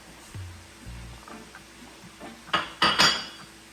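Callaloo and saltfish stirred in a cooking pot, with a spoon scraping and clinking against the metal in several soft strokes, the last few sharper and louder.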